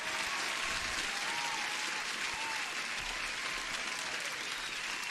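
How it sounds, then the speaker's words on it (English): Applause sound effect in a live day-trading stream, a continuous, uniform hiss of many hands clapping that holds steady and fairly quiet throughout, with no talk over it. "Naga, you deserve the applause as well"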